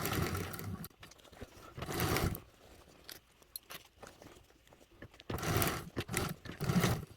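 A sewing machine stitches a bag handle in quick bursts of fast mechanical whirring, separated by quieter pauses with light clicks and handling noises, close and moderately loud.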